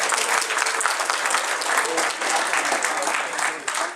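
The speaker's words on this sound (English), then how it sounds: "So big round of applause again for Chaz." An audience at a furry convention's opening ceremonies claps steadily in dense, loud applause that lasts throughout with no break.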